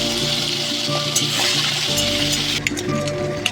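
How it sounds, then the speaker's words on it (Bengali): Prawns coated in salt and turmeric fry in hot oil, giving a steady, loud sizzle and crackle throughout, with no voices over it. "তেলটা ভালো করে গরম হয়ে গেলে নুন হলুদ মাখানো চিংড়ি মাছগুলো ভাজতে দিব"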